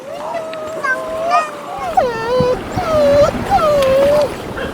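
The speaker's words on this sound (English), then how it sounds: "a load of dogs just came out to protect their territory" Several dogs come out to guard their territory, giving drawn-out howling and whining calls that rise and fall in uneven bursts at moderate distance, with a voice heard in the background.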